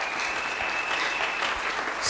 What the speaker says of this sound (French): Est-ce que nous pouvons encore acclamer?